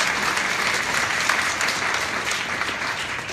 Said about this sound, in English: Yeah, you can clap again.